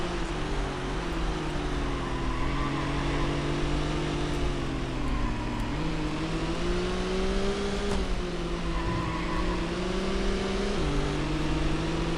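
A BMW engine in the Sports Car GT racing video game accelerating steadily: a continuous droning whine that climbs through gears with brief pitch drops at shifts, loud and unbroken throughout.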